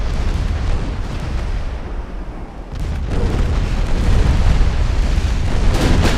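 Naval torpedo explosions in an early-1900s strategy game, a loud continuous rumbling roar of blasts that dips briefly and then swells again, dense and booming throughout.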